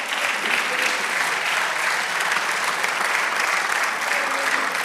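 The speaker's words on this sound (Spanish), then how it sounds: "Dele aplauso al Señor" Steady, dense applause from a large church congregation during a sermon, continuous and loud throughout without a break.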